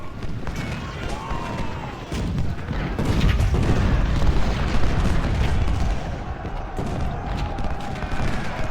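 Continuous musket volleys and booming artillery rumble from a Civil War battle in Ultimate General: Civil War, a dense, steady barrage of overlapping shots and distant cannon with no pauses.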